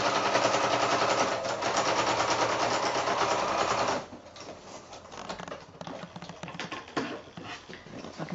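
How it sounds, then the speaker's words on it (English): A sewing machine runs fast and loud while stitching quilt binding, a dense rapid needle chatter for about four seconds, then drops to a softer, uneven clicking and handling noise. "just keep on sewing all the way down till you meet up with the sewing where you first started"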